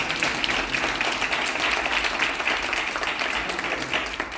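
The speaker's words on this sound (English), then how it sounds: "Give everyone a round of applause." An audience at a community talk gives a sustained round of applause, a dense, steady wash of many hands clapping throughout with no voices on top.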